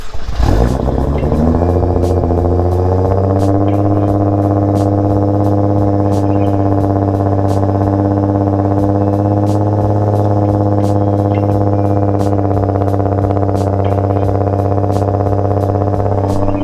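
A built 1500HP Nissan GTR engine with an aggressive cam idles loud and close, a steady, lumpy drone with a choppy, uneven pulse that runs without a break.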